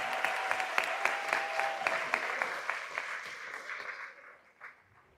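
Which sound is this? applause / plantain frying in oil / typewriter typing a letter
applause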